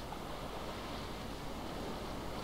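Water moving and lapping in the game Dear Esther, a steady, soft wash of surf-like noise with no distinct splashes and no speech.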